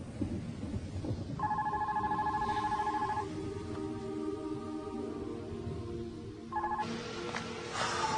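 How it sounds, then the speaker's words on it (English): A telephone rings in repeated bursts of trilling tones, two long rings separated by a pause, with a low rumbling background beneath; nobody answers during the ringing. "Come on, Elena, pick up the phone, will you?"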